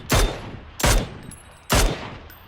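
Three loud, sharp gunshots in PUBG on Miramar, fired at an even pace about a second apart, each a sudden close blast with a short, fading tail.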